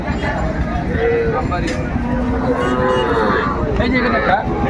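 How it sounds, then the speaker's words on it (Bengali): Sahiwal heifer calves mooing at a cattle collection, several drawn-out low moos overlapping one another close by, with people talking throughout. "আমরা দেখছিলাম এখানে যে গরুগুলো কালেকশন করছেন আতাউর ভাই"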